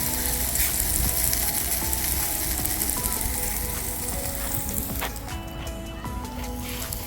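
USDA-certified halal beef steak sizzles on a barbecue, a constant close hiss of frying fat with faint clicks and scraping underneath that continue without pause.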